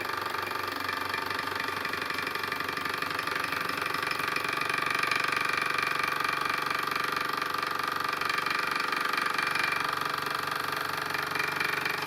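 A hoverboard hub motor drawing about 45 watts runs continuously to heat a room, giving a steady, fairly noisy mechanical whir and rattle with a slight knock, constant and close throughout.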